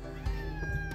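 A house cat meows close by, a drawn-out tonal cry standing out clearly against a low background hum in what sounds like an outdoor off-grid work setting.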